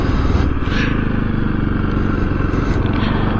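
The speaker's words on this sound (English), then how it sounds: "The engine makes a lot of noise, so that could be part of it. Or it might be wind." Motorcycle engine droning loud and close on a helmet-mounted microphone, with constant rushing wind buffeting over the engine note and no speech.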